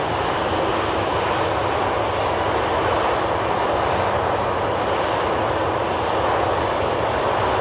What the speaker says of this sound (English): we have an arrival. It is the KLM E2.